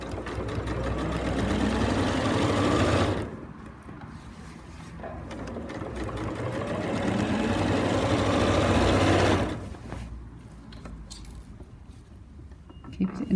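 A sewing machine runs in two sustained bursts while stitching a concealed zip, a close steady whirring hum broken by a pause and ending with quieter handling noise; a voice speaks softly between runs.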